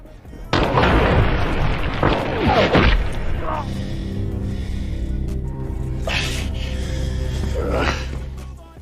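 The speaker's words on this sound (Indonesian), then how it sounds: "pria satunya langsung mengarahkan senjata dan meletuskannya ke arah Russell" A gun fires in a film scene: a sudden loud blast followed by another sharp burst a couple of seconds later, then a lingering low rumble and dramatic background sound.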